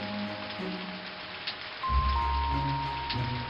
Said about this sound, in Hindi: उतने में बहुत जोर से बारिश शुरू होती है।